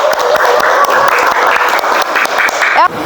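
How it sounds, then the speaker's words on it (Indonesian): Brisk applause from a classroom of students for a classmate during a school teaching-practice lesson, loud and close, lasting about three seconds before a voice briefly cuts in at the end. "Oke, tepuk tangan untuk Mas Taufik."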